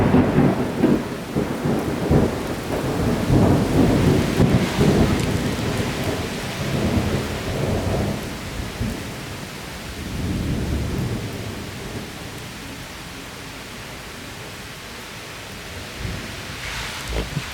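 Heavy thunder rumbles and cracks during a severe thunderstorm, with intense rain pouring steadily throughout; the loud booming rolls come in the first half, then ease into a constant downpour.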